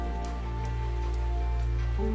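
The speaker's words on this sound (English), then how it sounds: "there's nothing like the smell of rain before sunrise" Rain falls steadily before sunrise, a dense, even patter on surfaces that holds at a constant level throughout, with a low steady hum underneath and no voices.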